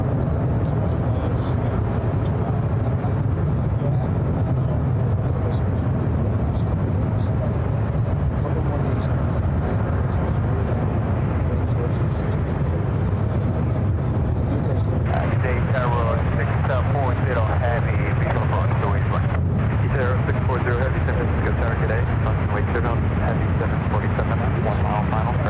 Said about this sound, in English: Lufthansa Queen heading into 28 left.